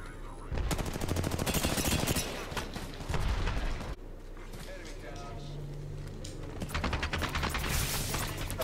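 Automatic gunfire in Apex Legends Season 15, heard as fast rattling bursts that start and stop in close irregular spurts, with a calmer stretch between them. A person talks during the shooting.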